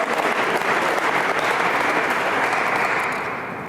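Sustained audience applause at a school award ceremony held by a county CEO, chamber of commerce and school district, dense and steady throughout before easing slightly at the end.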